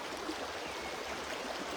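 River water flows over rocks in the Yarra Valley, Australia, a soft continuous rushing wash heard close and alone, with no talk.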